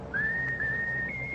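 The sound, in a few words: whistling a tune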